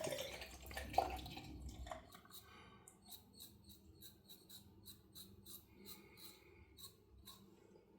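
A stainless steel Rockwell safety razor with a sandblasted matte finish is rinsed under a tap, giving quiet, steady trickling with small clicks and taps of metal against the sink.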